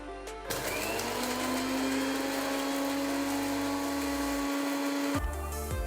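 A kitchen mixer grinder whirring as it grinds roasted spices including poppy seeds in its jar, a loud high motor whine running steadily for about five seconds before switching off abruptly.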